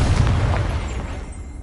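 A Confringo blasting spell in the video game Hogwarts Legacy bursts in one deep, booming explosion that rumbles briefly and then fades.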